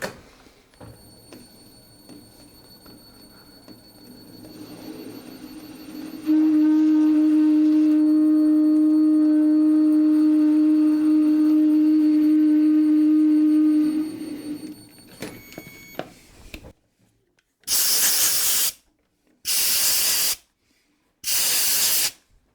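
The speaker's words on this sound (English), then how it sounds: "I'm taking one last spring pass at an extremely low speed just to make kind of a scraping pass on the thread." A metal lathe takes a slow final scraping pass with a threading tool on a machined part, producing a loud sustained tonal screech and whine for several seconds over a machine hum, followed by three short bursts of harsh hiss.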